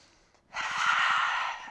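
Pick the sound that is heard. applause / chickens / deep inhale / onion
deep inhale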